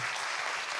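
A burst of audience applause at a talk show, a brief, even wash of clapping heard up close.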